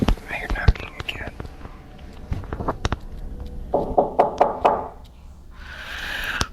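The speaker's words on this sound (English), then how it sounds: "I hear knocking again." Sharp knocks on wood come in irregular single raps and short runs through a night-time room, mixed with whispering voices and background rustle.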